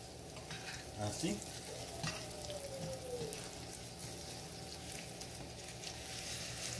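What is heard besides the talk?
chicken frying in oil in a pan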